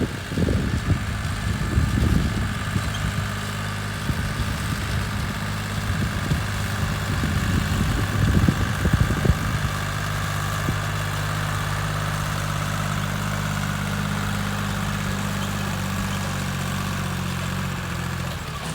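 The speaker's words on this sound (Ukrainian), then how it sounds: "Тракторик працює, сівалочка також." A tractor engine idles and runs steadily with an SZ-1.8 seed drill attached while sowing oats in a wet field after rain, a continuous low hum with some irregular knocking in the first half, then smoother running.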